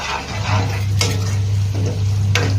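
A tadka (tempering) sizzles loudly and close in a pan, with a strong continuous hiss, a low steady hum underneath, and two sharp clinks of a utensil.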